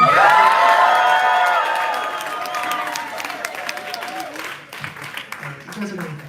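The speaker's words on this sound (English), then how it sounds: "I need everyone in the room to applaud raucously" A room full of people cheering and whooping loudly while clapping, the shouts fading after a couple of seconds into scattered applause and murmuring voices.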